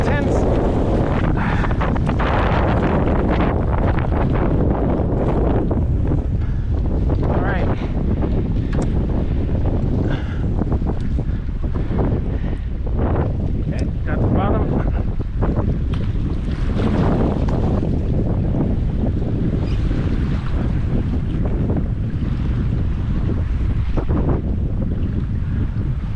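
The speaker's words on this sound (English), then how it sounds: "As you can tell, the wind is getting intense." Strong wind on a kayak out on the Pacific sea, a constant roaring gust that buffets the microphone for the whole stretch, loud and unbroken, with no clear talk over it.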